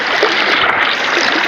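A river flows steadily through a rural durian-growing area, a loud continuous rushing wash of water with no breaks.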